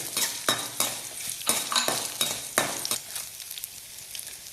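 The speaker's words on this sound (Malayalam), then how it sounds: "ഇതൊന്ന് വഴറ്റിയതിന് ശേഷം നമുക്ക് എരിവിനുള്ള വറ്റൽമുളക് ഇട്ട് കൊടുക്കാം" Dried red chillies and tamarind frying in oil, with a bright crackling sizzle broken by repeated bursts of stirring and utensil scrapes against the pan, close and fairly loud.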